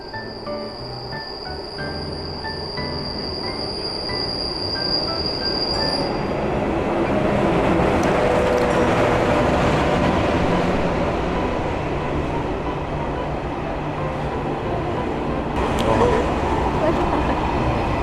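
A train rolls into a station with a rising rumble and high metallic wheel squeals, then a steady clatter of cars passing close by.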